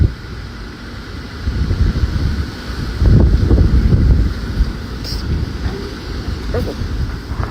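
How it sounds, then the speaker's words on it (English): Strong wind buffets the microphone in loud, rumbling gusts, rising and falling outdoors, with a voice speaking briefly underneath. "it's really windy outside"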